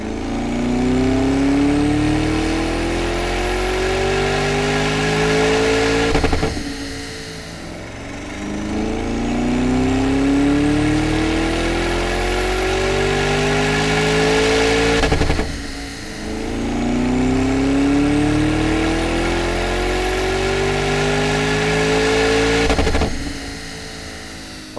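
A Lamborghini runs on a chassis dyno, its engine revving in three long pulls, each sweeping steadily upward in pitch to a loud peak before cutting off abruptly, close and powerful.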